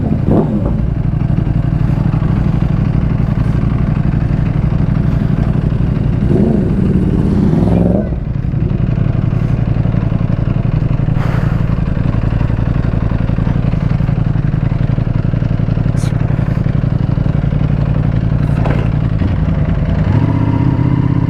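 Ducati Panigale V4S motorcycle heard while riding, a steady loud engine drone with a low rumble and shifting tone, plus some wind noise and a brief rev change near the middle.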